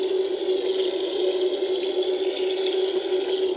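An American Girl doll's toy bathtub plays electronic water sounds, a steady running-tap splashing with a tonal hum underneath, loud and continuous with no voices.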